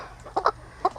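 Farm chickens cluck while being loaded into a crate, giving a few short close clucks in quick succession.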